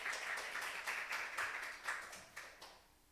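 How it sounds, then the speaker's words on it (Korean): A small church congregation at a Sunday worship service gives a brief round of applause. The claps are fairly soft and distinct and grow sparse as they fade out. "우리 박수로 청해 듣겠습니다."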